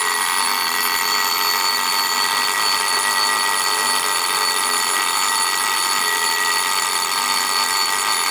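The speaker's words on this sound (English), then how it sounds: "the bell ring alarm will go first" A Jaeger-LeCoultre musical alarm clock's bell rings continuously and loudly at close range, a dense metallic ringing that holds steady throughout with no talking.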